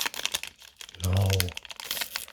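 Foil wrapping of a Pokémon Eevee Heroes booster pack being torn and crinkled open by hand, close up, with crackling bursts throughout and a short voiced exclamation in the middle.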